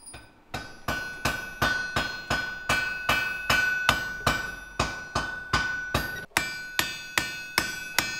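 A blacksmith's hammer strikes metal in a steady rhythm, about fourteen sharp ringing blows each decaying quickly, close and loud, with no talking.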